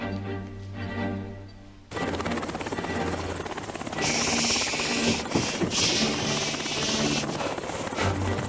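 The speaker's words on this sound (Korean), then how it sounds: "헬기 준비해 놓으세요" Helicopter rotor and engine roar, quiet and distant at first, then loud and close with steady rhythmic chopping and gusts of wind, a flight to the Jeju aerospace museum.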